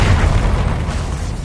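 A booming spell explosion in the game Hogwarts Legacy, a loud broadband blast with heavy low rumble that stays dense and sustained through the whole short burst, with no talking.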